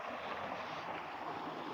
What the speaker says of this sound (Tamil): தண்ணி போகுது அழகா.